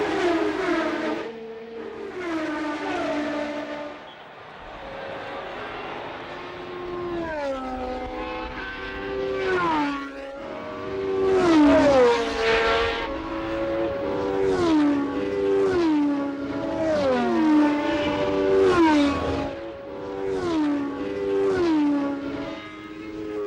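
1980 Formula One wing cars racing past one after another, high-pitched engines screaming as they rise through gears and drop on downshifts, loudness swelling and fading as each car passes, no voices.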